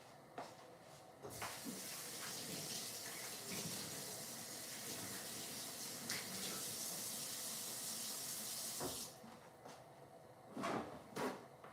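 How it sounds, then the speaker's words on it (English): Hands being washed under a running kitchen tap. A steady, soft hiss of flowing water runs for several seconds, with small knocks and clatters before and after it, all quiet and close. "I washed my hands, clean hands, in preparation for this"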